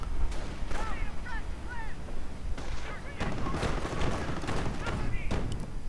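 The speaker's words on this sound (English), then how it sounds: "Puma opening up on these riflemen, standing out in the open, coming under fire from Volksgrenadiers as well." Gunfire from a Puma armored car shooting at riflemen in a real-time strategy game, with rapid bursts and thuds over a dense battle din and overlapping talk.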